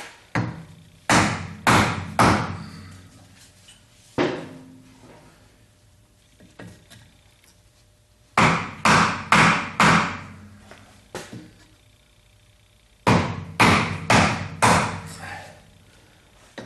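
A small hammer strikes repeatedly during work in a garage on a 1976 Corvette restomod, in close, loud bursts of three or four quick blows separated by pauses and occasional single taps.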